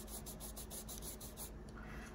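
Soft, steady rubbing on a fiber mesh earbud case woven from recycled plastic bottles, a close ASMR scratching texture in quick repeated strokes that ease off near the end.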